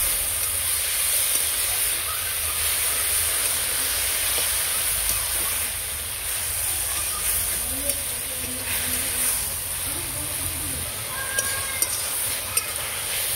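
Red amaranth greens fry in a pan for a Bengali lentil dish, giving a steady soft sizzle and hiss with faint stirring scrapes throughout.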